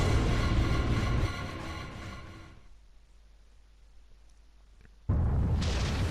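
An island blows apart in the video game Devil May Cry: a loud, dense rumbling blast that eases into a quieter low roar for several seconds, then erupts again at full force near the end.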